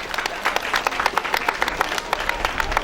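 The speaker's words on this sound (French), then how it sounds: "je demande d'applaudir très fort" Brief burst of audience clapping at an official launch event for a women's association in Eboinda; a smaller crowd with distinct, rhythmic individual claps, fairly close and steady, no talking.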